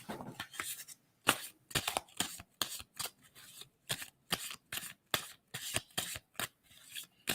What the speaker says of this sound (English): And I'm going to stop shuffling on that.